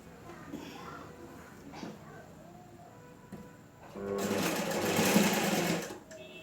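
Sewing machine stitching a quarter-inch blouse hem, a steady whirring run building loud and close in the final seconds, with quieter intermittent machine noise and handling before it.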